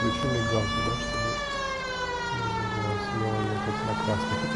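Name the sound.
police car siren and flashing lights in a video game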